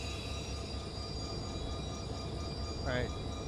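A freight train with a stuck brake rolls through West Colton Yard in the Run 8 train simulator, giving a steady, close rumble of wheels and cars and a brief rising wheel squeal near the end.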